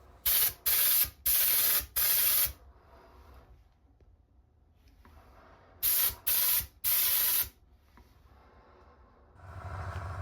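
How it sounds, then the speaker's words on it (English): Aerosol primer sprayed on a shower basin repair in short hissing bursts, three close together, a long pause, then three more, followed by low background rumble. "Very carefully start to build up the coats of primer."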